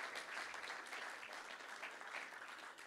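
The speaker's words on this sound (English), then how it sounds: "give them a big, big encouraging clap" Church congregation applauding new interns at a Sunday teaching service, a steady, even wash of many hands clapping throughout, fairly soft and distant.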